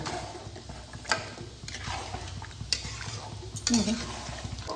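Marinated chicken frying in a pan while being stirred with a utensil, a steady close sizzle broken by a few sharp scrapes and clinks against the pan.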